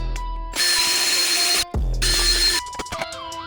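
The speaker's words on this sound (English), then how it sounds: "I'm gonna drill 2 holes and mount the controller to this assembly" A power drill boring two mounting holes for an e-bike controller whines loud and close in two sustained bursts, with short pauses and a clicking ratchet-like chatter between and after them.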